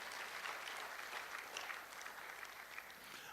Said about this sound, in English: So let's clap for them in advance.